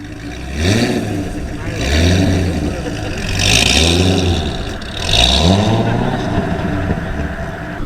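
A Corvette's LS V8 engine with manual gearbox revs repeatedly at a car meet, rising and falling in several loud, throaty surges with a steady idle rumble between them.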